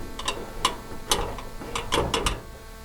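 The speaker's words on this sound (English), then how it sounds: "1/4 by 1 inch screws, and we'll get it started with our screwdriver" Long hand screwdriver turning 1/4 by 1 inch screws into a Polaris Ranger 570 cab panel, giving a string of close, irregular ratcheting clicks, with no talk.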